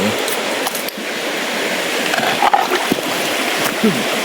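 Freshwater prawns are washed by hand in a stream, giving close, irregular splashes and sloshing water with small knocks and clatters.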